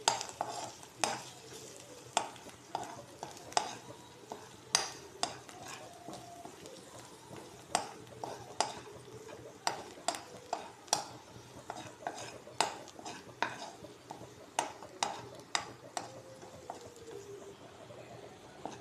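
Clams with turmeric being stirred in a pan: a soft sizzle underneath and a regular series of sharp scraping clacks from a spoon against the metal, close and repeated, with no talking.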